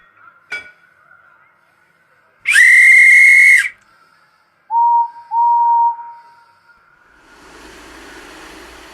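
A loud, steady train whistle sounds once, followed by two shorter, lower whistle toots and then a soft rushing hiss.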